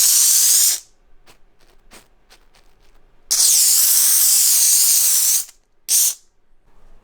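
A Dupray Neat steam cleaner letting out steam in three loud hissing bursts: a short one, a long one, then another short one, with quiet gaps and faint clicks between them.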